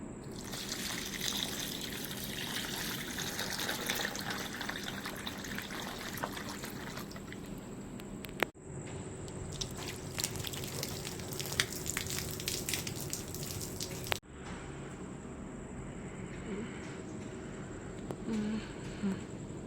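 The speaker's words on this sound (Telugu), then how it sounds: "సో గైస్ ఇప్పుడే ఫేస్ వాటర్తో ముఖం అయితే కడుక్కున్నా" Water runs from a tap while a face is washed, a steady close splashing stream with two brief breaks where the flow shifts, no talk over it.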